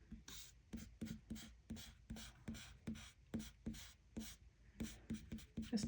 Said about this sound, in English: erase all those pencil lines I've made